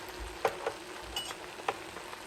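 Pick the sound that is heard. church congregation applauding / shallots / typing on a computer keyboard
shallots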